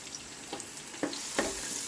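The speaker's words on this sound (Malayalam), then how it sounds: "നമ്മൾ ചുവന്നുള്ളിയും സവാളയിട്ട് വഴറ്റിക്കൊണ്ടിരിക്കുകയാണ്." Shallots and onions sautéing in a pan for mutton curry give a soft, continuous sizzle, with a few light stirring scrapes rising over the frying hiss.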